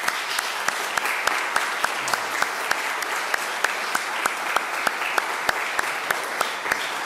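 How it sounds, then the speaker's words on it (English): Applause for Eagle Scouts at a Boy Scout court of honor, a room of people clapping steadily with a few louder, regular claps standing out near the microphone, continuous for several seconds. "one more round of applause for our Eagle Scouts"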